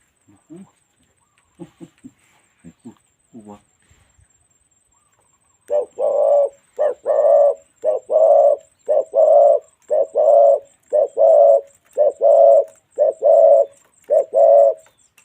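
A bird gives a long series of deep, rhythmic cooing calls, evenly spaced and fairly close, after a few brief scattered sounds at the start.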